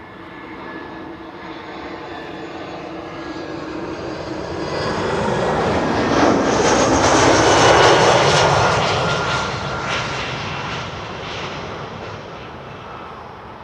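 An airliner landing on runway 06 at Schiphol gives a broad, roaring jet rumble that swells to a loud peak midway as it passes close overhead, then slowly fades, with no voices present.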